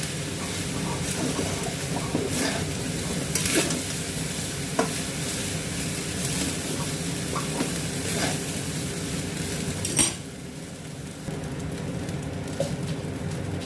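Fried rice with salt being mixed in a pan, a soft continuous sizzle with intermittent scraping and clinking of the spatula, fairly quiet and close, no voices.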